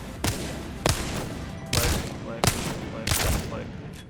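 Wingman pistol fire in the Apex Legends video game: five heavy, booming single shots spaced about half a second apart, each with a short ringing tail.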